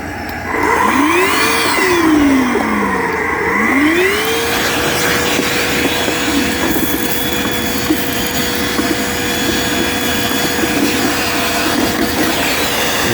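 A Flex wet vacuum whines loudly as it starts, its pitch sweeping up and down before settling into a steady, continuous roar.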